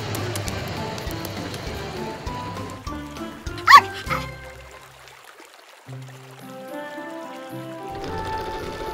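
A small cartoonish dog yips and barks in short bursts over light background music, with a brief sharper sound effect in the middle.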